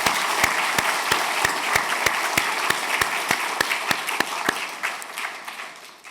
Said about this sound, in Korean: 큰 박수로 힘을 북돋는 박수 드리겠습니다.